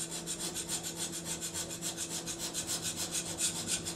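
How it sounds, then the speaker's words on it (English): A scraper ground square from the end of a file is pushed back and forth over painted metal on a lathe part, making fast, rhythmic rasping strokes about eight per second, close and steady, over a low machine hum. "So I've ground the end off a file square. It makes a really good scraper."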